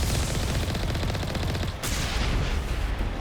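Dense, continuous gunfire from a Mass Effect firefight, rapid overlapping shots and bursts blending into a loud, steady barrage with a brief dip partway through.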